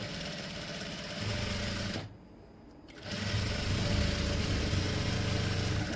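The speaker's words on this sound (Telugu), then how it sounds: "ఇప్పుడు ఇలా మూడు కలిపి ఈ కింద స్టిచ్ అయితే వేసేసుకోవాలి" A sewing machine stitches blouse fabric and lining together in a loud, steady mechanical whir. It pauses for about a second and then resumes at a faster, stronger pace, with no talking.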